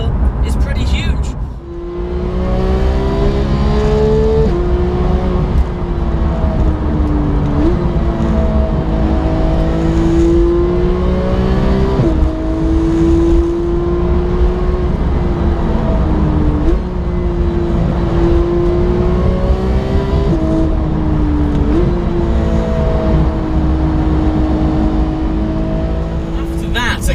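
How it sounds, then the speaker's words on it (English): A GT3 car is driven hard, its engine holding a high, steady rev with gear shifts marked by brief dips and climbs, loud and close throughout, with a voice talking faintly underneath. "that 20-second segment of just hooning a GT3"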